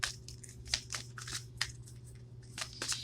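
Tarot cards are shuffled in a run of crisp, irregular riffling snaps and flutters over a steady low hum, close to the ear with no talking.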